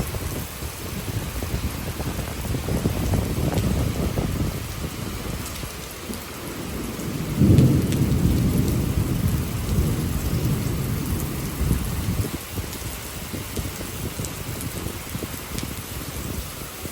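Steady heavy rain drums on surfaces in Jurong East, Singapore, while a long, low thunder rumble swells and lingers for several seconds, then the rain carries on alone.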